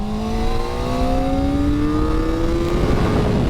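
A Kawasaki ZX-4RR 400cc motorcycle at speed on a race track, its high-revving engine screaming loud and close as it climbs steadily through the revs in one continuous pull with no talk.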